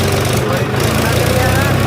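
Tractor engine running steadily up close, a loud continuous mechanical drone with no pause, heading back toward a colony after the tractors were unloaded.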